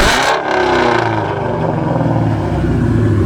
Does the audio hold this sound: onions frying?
no